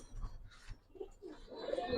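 Checker iceberg modena pigeon cooing softly at close range, a few short low coos in a quiet room, fairly faint.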